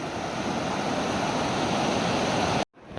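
A mountain river flows on Mount McLoughlin in Oregon in June, a steady, close, loud rush of water with constant broadband churn, lasting about two and a half seconds before cutting off abruptly.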